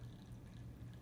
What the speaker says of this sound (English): I recommend pouring almost all of it off, or as much as you can,